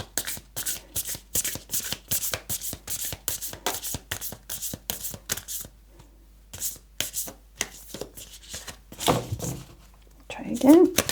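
Oracle cards shuffled by hand in quick repeated riffles and slides, close and crisp, pausing briefly before a few more shuffles, with a voice speaking near the end.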